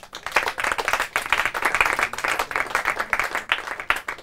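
Studio audience claps for a team at a Portuguese quiz show final, a lively burst of fairly close, distinct handclaps in an uneven rapid rhythm lasting several seconds.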